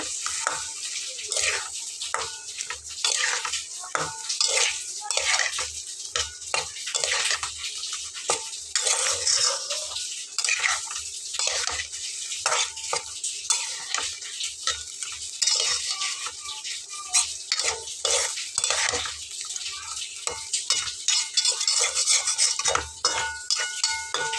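Fried okra is stirred into a yogurt curry in a pan, giving repeated scraping and wet stirring strokes over a faint bubbling simmer, fairly close and moderately quiet, with no talking.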